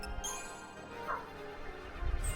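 Dogs bark and yip indoors, a few short, fairly faint bursts with some whimpering, over a background hum while a voice is faintly present.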